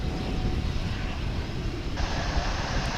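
An old aircraft at Dallas/Fort Worth International Airport gives off a steady, loud engine roar that fills the scene without letup, with no voices.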